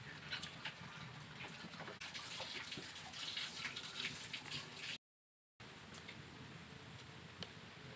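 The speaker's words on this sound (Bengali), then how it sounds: "এইভাবে ভালো করে জল নিগড়ে নেব।" Wet gourd leaves (chal kumro pata) being squeezed by hand to press out water while preparing a prawn dish, giving a steady close splashy trickle and drip that continues with a brief gap partway through.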